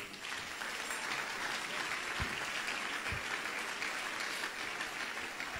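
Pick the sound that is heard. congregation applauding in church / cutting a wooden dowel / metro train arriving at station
congregation applauding in church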